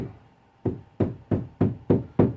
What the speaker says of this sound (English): Now I'll take my hammer just in case some staples didn't go down good. And I'll just kind of tack it.